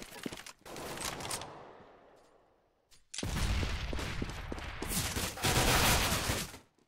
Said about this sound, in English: Action in banana side, AZ made an entry kill